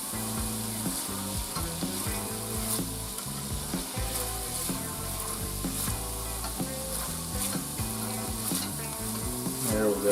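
Butter stirred into a shrimp pasta sauce in a pan, with a steady loud sizzle and repeated scraping stir strokes running throughout, close up and uninterrupted.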